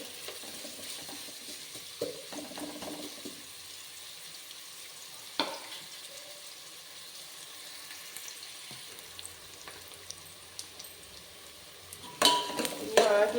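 Vegetables for pulao fry in a pan toward golden brown, a faint, steady sizzle broken by a few scattered scrapes and clinks of a spoon. A louder stir of clatter comes near the end.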